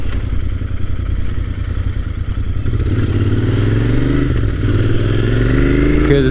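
Royal Enfield Interceptor 650 motorcycle engine running steadily while riding, a loud continuous drone with the pitch rising partway through as it accelerates, plus wind rush throughout.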